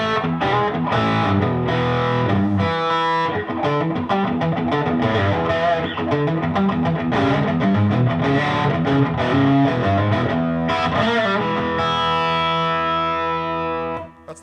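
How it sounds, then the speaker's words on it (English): Electric guitar through a distorted amplifier, a loud close run of overdriven riffs and chord stabs with some reverb, ending on a sustained chord that fades out; no speech. "That's the sound of the amp."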